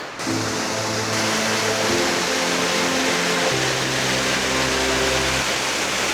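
Steady roar of the tallest waterfall in the Rila mountains in Bulgaria, plentiful water even in August, a loud continuous rushing wash heard close by, with some low tonal hum underneath.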